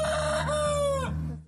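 A rooster crows once, close and clear, a drawn-out call with a rising then sustained tone that cuts off sharply.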